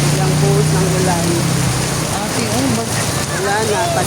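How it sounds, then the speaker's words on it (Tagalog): Sudden heavy rain pours down on a flooding street, a loud, dense, continuous hiss, with a voice faintly audible beneath the downpour. "Biglang buhos ng ulan."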